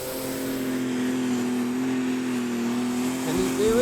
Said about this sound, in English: The second of our guest tractors from France in limited superstock is Warrior, driven by Christophe Gabriel.